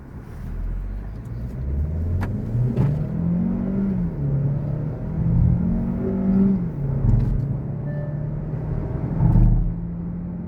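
A 2026 second-generation Kia Seltos with a turbo petrol engine pulls hard from a standstill toward 100 km/h, its engine note climbing in steady sweeps and dipping briefly at gear changes, loud and close throughout with no talk.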